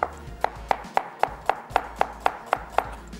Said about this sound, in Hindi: चलें जी, यहाँ पे करते हैं प्याज को हम स्लाइस।